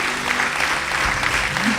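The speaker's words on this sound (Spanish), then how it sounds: "Un aplauso para Él." Congregation applauding during a Spanish-language church service, a dense continuous wash of clapping at steady loudness with no break.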